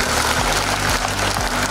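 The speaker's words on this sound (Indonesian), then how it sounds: "tepuk tangan untuk Dexa ini." Loud, dense applause fills a hall at a Dexa Group, BKKBN and IBI stunting-reduction event in Yogyakarta, a steady wash of many hands clapping with a low humming tone underneath.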